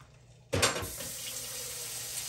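Tap water pours steadily into a pot of vegetable beef soup, a sudden gushing stream starting and running continuously at close range with no talking.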